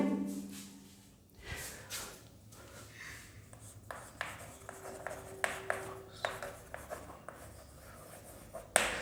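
Chalk or marker writing on a board during a chemistry lesson, a series of scratchy strokes and taps in uneven bursts, close and moderately loud, with no talk.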